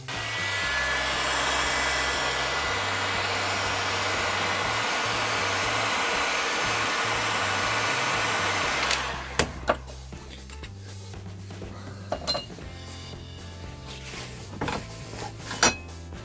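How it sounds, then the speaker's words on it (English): A hot air gun blows a steady, loud whooshing hum while heating a strap clamped in a vise, then shuts off after about nine seconds, leaving scattered light clicks and handling noises. "So now let's heat it up with the hot air gun."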